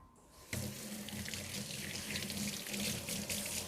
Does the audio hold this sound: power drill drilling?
no